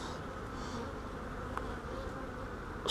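Honey bees buzz in a dense, continuous drone during a hive inspection, close and steady with a few brief individual bees passing nearby.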